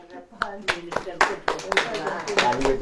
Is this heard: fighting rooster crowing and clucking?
no